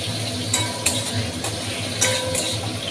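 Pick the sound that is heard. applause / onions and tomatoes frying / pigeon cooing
onions and tomatoes frying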